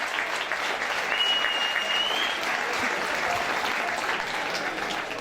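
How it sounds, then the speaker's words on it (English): Crowd applause after a fight between two young fighters at a FIGHTMAX event, a dense steady clapping roar holding loud and even across the whole stretch. "a massive round of applause for both these young fighters"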